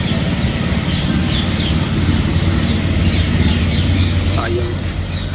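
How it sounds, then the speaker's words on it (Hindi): Birds chirp and squawk repeatedly amid the trees of Lodhi Garden, sharp calls scattered over a steady outdoor hum with faint background voices. "पक्षियों की चहचहाट की यहाँ पे कोई कमी नहीं है।"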